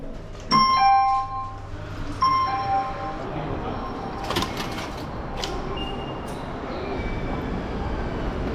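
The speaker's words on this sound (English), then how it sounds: "ドアが閉まります。" Two bright electronic chimes, each with a ringing two-tone ding, sound close in a Tokyo station elevator as its door closes. A low hum and murmured voices follow.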